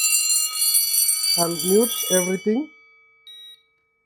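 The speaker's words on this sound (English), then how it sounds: "Then I'll push evacuate. Even the bell will trigger the alarm." A Hikvision conventional fire alarm panel's bell sounds after evacuation is triggered, a steady high alarm tone running through the clip and cutting off near the end, with a person talking over it partway.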